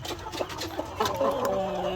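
A large grey rooster on a farm clucks in short, repeated notes close by, with a low rustle of other fowl and background noise around it.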